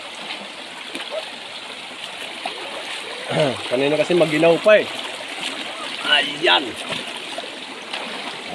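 Water runs steadily at Bilog Falls, a constant close rushing flow with occasional splashes, while someone talks briefly over it partway through.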